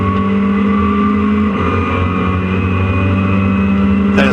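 Race cars howl past at Donington Park during a track day, with a BMW among them: a loud, sustained engine drone with steady harmonics that shifts pitch midway, then a sharp rising rev flares up at the very end.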